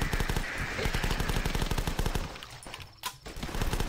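Rapid, continuous machine-gun fire aimed at zombies in the video game The Last Stand, a fast, even rattle of shots that briefly pauses near the end before resuming, loud and close with no talk.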